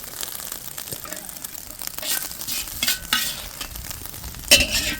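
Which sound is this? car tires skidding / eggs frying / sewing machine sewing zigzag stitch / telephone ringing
eggs frying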